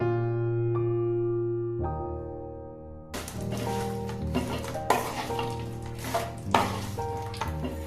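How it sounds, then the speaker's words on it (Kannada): Grated coconut frying in plenty of oil for an onion and coconut masala, with sizzling hiss and stirring scrapes in a pan under a steady tonal music bed. "ಎಣ್ಣೆಯೊಳಗೆ ಹುರ್ಕೊಳ್ಬೇಕು."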